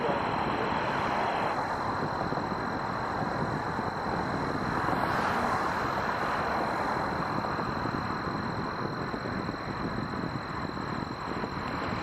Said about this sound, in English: Here's Iceland Air, 757.